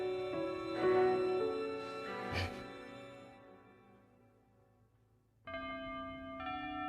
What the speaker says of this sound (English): That chime means it's 6 o'clock.